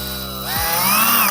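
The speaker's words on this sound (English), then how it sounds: "Let's drill some holes." A power drill with a small bit, 1/8 or 1/4 inch, bores holes while modding an Odyssey 2 console; the motor whines loud and close, rising in pitch as it spins up, with no talking.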